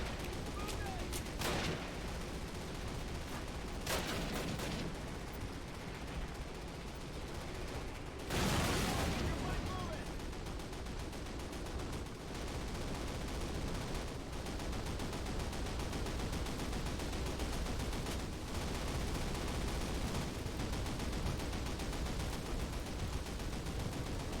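Pistol and other gunfire in the 2003 World War II shooter Call of Duty, during an airborne D-Day drop mission: sharp isolated shots over a dense, constant battle din, with a heavier blast near the middle and talk throughout.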